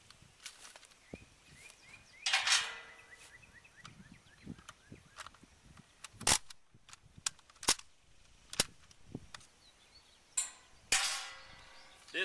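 An SKS rifle slam-fires in a single sharp, loud report amid quieter metallic handling clicks, clanks and shuffling, with several scattered transient knocks.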